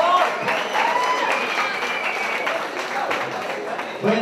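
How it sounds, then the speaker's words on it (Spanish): An audience at a Quito MMA fight night claps steadily in a busy hall, with dense applause and a few louder individual claps throughout. "Un aplauso a los que creen en el MMA ecuatoriano."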